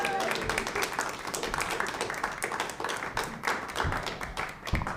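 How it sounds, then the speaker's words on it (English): Audience applause for comedian Adiel Kay at a small standup comedy show, a steady wash of clapping with scattered cheers and voices mixed in, lasting the whole stretch. "Start clapping right now for Adiel"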